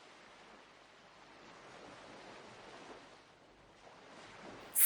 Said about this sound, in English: There are only the waves jumping and splashing.